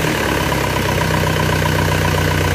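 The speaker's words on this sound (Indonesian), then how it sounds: "Tapi untuk mesinnya halus ya ini." An Isuzu Panther diesel engine idling steadily with an even, constant rumble, close and loud throughout, exhaust flex pipe badly worn.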